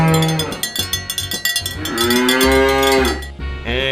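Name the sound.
cow mooing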